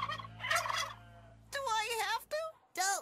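A voice imitates a turkey, letting out a few warbling gobbles in quick bursts separated by short pauses.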